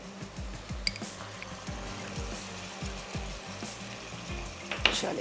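Chicken pieces and mushrooms fry in a pan over high heat, giving a steady close sizzle with scattered clinks and scraping of utensils throughout.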